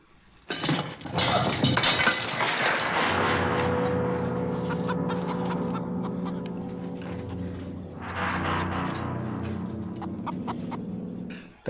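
Clucking chicken in a scene from the 1974 horror film The Texas Chain Saw Massacre, with repeated loud, close calls over a steady low hum and brief clattering, no talk.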